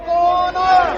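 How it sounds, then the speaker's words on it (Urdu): Political party workers chant slogans against each other's leadership outside a residence at a protest, a loud, close crowd of voices rising together in a brief sustained shout. "ایک دوسرے کی قیادت کے خلاف نعرے بازی کی"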